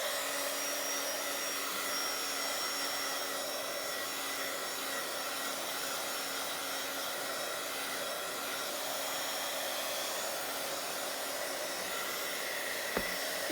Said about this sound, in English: Let's dry that and see what it looks like.